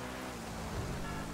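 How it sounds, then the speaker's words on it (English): Steady, dense video game rain noise hisses evenly throughout, a constant wash of falling water with no voices. "Why is it raining, man?"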